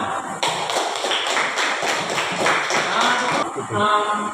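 Classroom clapping at the end of a teacher's lesson, a dense run of hand claps that fills the space steadily for a few seconds, then stops and gives way to a voice.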